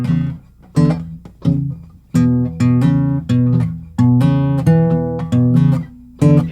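Electric guitar trading a picked single-note riff with chordy rhythm strums, back and forth in short bursts with brief gaps, close and fairly loud with no talk.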